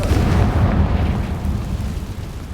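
Fire-blast spell explosions in the Hogwarts Legacy video game, a dense, continuous rumbling roar of booming bursts that stays loud throughout with no pauses.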